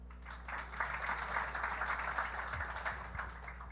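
An audience at the Kill Tony comedy show at Skankfest 2018 bursts into a short round of clapping, a dense mid-distance patter that swells and then fades within a few seconds.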